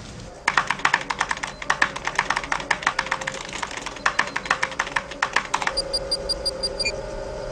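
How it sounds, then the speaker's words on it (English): Rapid clacking of a computer keyboard, close and fairly loud, the keystrokes coming in steady bursts for several seconds before giving way to a few high electronic beeps and a low hum. "Just use the keyboard."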